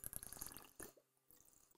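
Soda Jerk root beer soda pours into a glass in a short burst of liquid splashing, then stops, followed by faint fizzing and a sharp click at the end.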